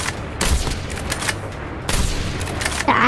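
Video game shooter gunfire comes in several sharp, loud bursts spaced through a short stretch, with a faint blip of game audio near the end.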